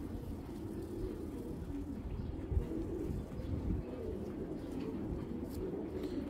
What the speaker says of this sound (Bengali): এক কথা বলতে গেলে পুরান জাতের কবুতর।